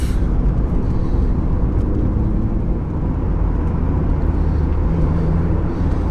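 Scarlet, a car being driven on a scenic drive, gives a loud, constant low rumble of engine and road noise heard from inside the cabin, steady throughout with no speech.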